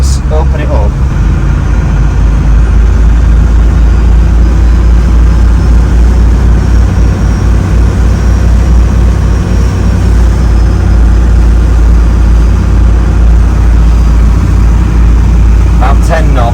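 A 1980s UK powerboat's Ford turbo engine, with a cracked block, is opened up to higher revs at sea, giving a loud, steady, low engine drone with rushing water and wind throughout.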